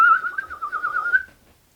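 A shrill whistle from the film Return to Silent Hill, blown in one sustained, warbling note for just over a second before cutting off into quiet.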